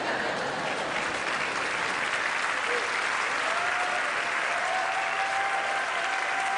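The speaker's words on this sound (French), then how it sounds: "Merci, les applaudissements pour Constance" Sustained, dense applause from a large audience, steady and fairly loud throughout.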